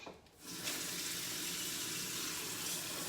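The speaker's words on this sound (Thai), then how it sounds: "ต้องใส่น้ำลงไป" Water rushing from a tap into a pot or sink while cooking fish, a steady close hiss and splash that starts abruptly and runs unbroken to the end.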